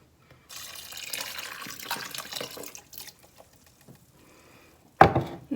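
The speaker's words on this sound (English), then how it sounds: "And then add your water, 2 cups of water." Water from a cup is poured into a slow cooker for taco soup, giving a soft splashing trickle lasting a couple of seconds, then a brief pause and a sharp clunk near the end.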